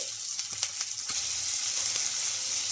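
Onions and green chillies frying in a pan, a steady close sizzle with a few light stirring scrapes early on, no voices.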